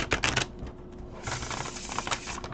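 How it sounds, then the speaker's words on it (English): Tarot cards are shuffled close by in quick riffling bursts, a papery flutter at the start and again through the second half. "Ah, the good shuffle."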